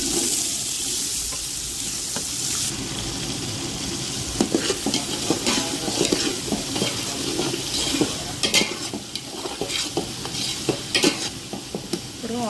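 Thinly sliced onions fry in hot oil and are stirred in a pan, a continuous loud sizzle broken by repeated scraping and clinking of the spoon against the metal.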